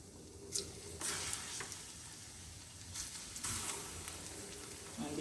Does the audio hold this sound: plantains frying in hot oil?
yes